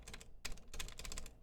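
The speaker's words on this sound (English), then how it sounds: "you can actually hear scratching that is not present on the lube switches" Clicks from a new, unlubricated BOXX arcade-style controller button pressed off-center, a quick run of close, crisp clacks with a faint scratchy edge, no voices.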